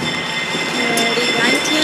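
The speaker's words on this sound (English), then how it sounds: "and here comes the train." A White Pass railway train in Alaska approaches, a steady rumbling rail noise with faint metallic squeal, fairly close and continuous over the whole moment.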